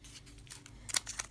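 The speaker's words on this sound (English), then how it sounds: "Bring out the scissors." Quiet scissors snip a few times close by, cutting open card packs, soft crisp cuts with a sharper snip near the end, no voices.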